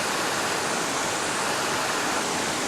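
A river flows past in a natural forest setting, a steady, dense rush of water that fills the whole clip at an even, close level with no voices.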